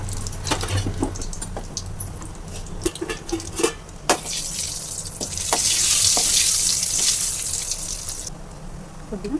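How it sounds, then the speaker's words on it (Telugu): Mustard seeds, cumin and split gram dropped into hot oil for tempering crackle and sizzle up close, with scattered pops followed by a sustained hiss, alongside some clattering of cookware. "మనం ఇప్పుడు ఆవాలు వేస్తున్నాం. జీలకర్ర,"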